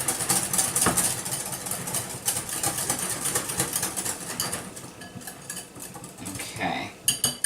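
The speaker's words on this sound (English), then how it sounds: "So I'm just going to whisk this together real quick." A whisk rattles rapidly against a bowl while deviled egg filling is mixed, a close, busy clatter of quick metallic taps that eases off toward the end.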